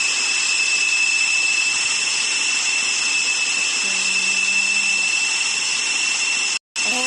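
An airplane engine in the Indian bikes driving 3D zombie game drones loudly and steadily with a high whine during takeoff, unchanging for most of the clip apart from one brief dropout.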